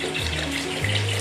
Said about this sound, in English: Get the water, pour it in.